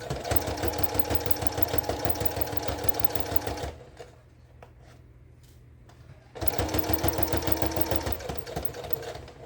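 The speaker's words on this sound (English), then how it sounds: "Now we're going to go over to the sewing machine. Okay, so we're sewing" A sewing machine stitches in a jeans zipper in rapid, even pulses, pauses for a few seconds of quiet handling, then resumes stitching at the same pace.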